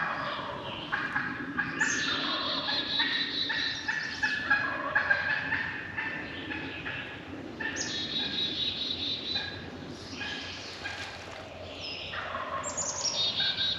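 Wild turkeys gobble during a spring turkey hunt in Massachusetts. Many birds call in overlapping bursts, some near and some farther off, in a nearly continuous chorus with no talking.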